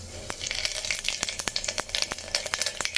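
Mustard seeds and cumin crackle in a few tablespoons of hot oil while making tomato rasam, a steady close sizzle broken by many sharp popping bursts throughout, with no talking.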